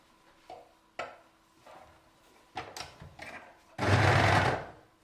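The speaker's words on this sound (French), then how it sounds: "Alors je le fais à la surjeteuse parce que voilà, c'est toujours plus joli" An overlocker sergeing the seams of a long maternity skirt: short intermittent bursts of whirring stitching with pauses and fabric handling, then a longer, louder continuous run near the end, close up.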